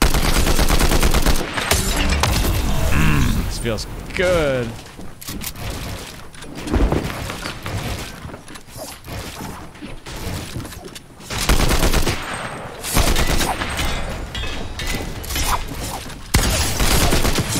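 Combat Assault Rifle bursts in Fortnite, loud rapid gunfire in several strings separated by short gaps, with someone talking briefly between the volleys.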